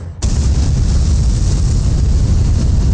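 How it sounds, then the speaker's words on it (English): Starship rocket engines ignite at launch in Kerbal Space Program 2, opening with a sudden thud that swells at once into a loud, steady, dense roar that holds to the end. "There's just the sudden thud of the engine starting and coming into life."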